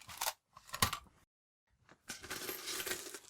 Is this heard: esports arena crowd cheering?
no